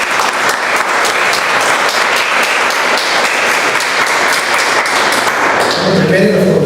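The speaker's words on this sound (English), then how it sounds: "Oh, so big round of applause." Energetic applause fills a Toastmasters club meeting room, dense close clapping running steadily, with a voice starting to speak as it winds down at the end.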